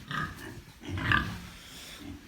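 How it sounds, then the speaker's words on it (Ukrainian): Pigs on a farm grunt and snuffle at close range in a few irregular low bursts, with some faint background noise and no talk. "І ось о наші дві дві свинюшки"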